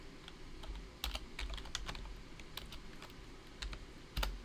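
Typing on a computer keyboard in a quiet room, a faint, close series of irregular key clicks with short pauses between bursts.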